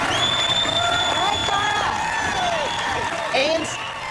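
A MasterChef Junior studio audience erupts in cheers, whoops and applause, with excited shouts layered over sustained clapping.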